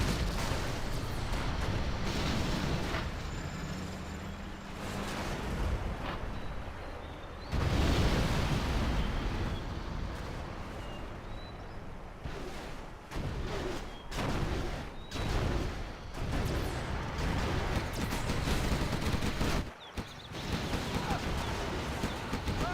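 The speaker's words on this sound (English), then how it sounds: "The nuke cannon is absolutely devastating." Nuke cannon shells and other artillery in a Generals Zero Hour China match, heard as repeated heavy booms and rumbling blasts through a dense, continuous battle din, with a commentator talking over it.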